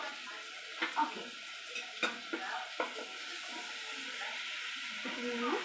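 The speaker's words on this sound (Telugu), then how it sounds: "ఇప్పుడు నేను చికెన్ని బాగా ఆయిల్లో ఉడికించుకోవాలండి." Chicken fries in oil with a steady close sizzle and hiss, while a utensil scrapes and stirs the pan in a few clicks and knocks over the continuous frying.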